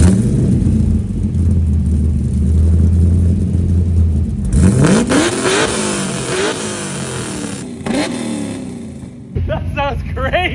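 Third-generation Camaro Z28 with an LS engine swap, long tube headers and factory MPP exhaust, loud near idle, then the engine revs up sharply and repeatedly, with people talking over it.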